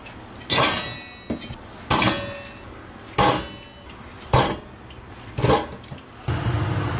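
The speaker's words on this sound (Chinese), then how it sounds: "我们现在就盖上锅盖" Metal pot lid set onto a pot of simmering bone soup, with several sharp clanks and rattles spaced a second or so apart, close and fairly loud.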